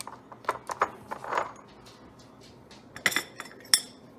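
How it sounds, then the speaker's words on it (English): A spoon clinks against a cup while stirring red rooibos tea with vanilla, giving a few sharp close metallic taps in irregular bursts, with quiet gaps between. "Kind of stir this around"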